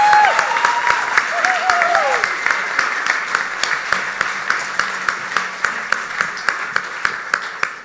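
Live audience applauding a pitch speaker, a room of hands clapping in a steady rhythm that tapers slightly toward the end, with a faint voice briefly underneath.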